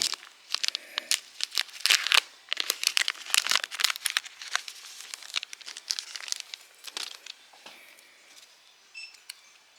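Foil trading card booster packs for a maze-themed card game are torn open and crinkled, with close, busy bursts of ripping and crumpling in quick irregular succession, two packs handled together, loud then easing off.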